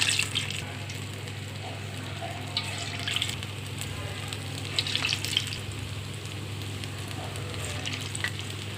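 Onion garelu, lentil fritters, frying in hot oil, a steady close sizzle with bubbling and occasional louder crackling bursts as batter drops in, continuous throughout, no talk.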